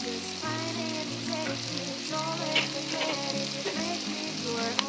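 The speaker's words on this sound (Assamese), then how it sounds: "এয়া হাঁহৰ মাংসখিনি তেলত দি দিছোঁ। অলপ দেৰিলৈকে ভাজি থাকিম।" Duck meat sizzles and crackles in hot oil in a pan, a continuous close frying hiss with small pops and spatters, with soft tonal background music underneath.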